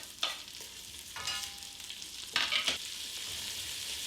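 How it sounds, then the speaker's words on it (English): Diced onion sauteing in bacon fat in a pan for German split pea soup: a soft, low sizzle under a few short scraping stir strokes, quiet and close, with no voices. "And then I'm adding my diced onion to the bacon and the bacon fat."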